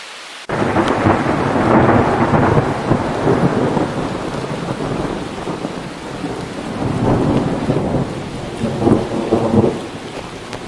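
Steady rain falls with rolling thunder in the woods on Monte Cucco, a loud continuous wash of downpour with deeper rumbles swelling and fading throughout.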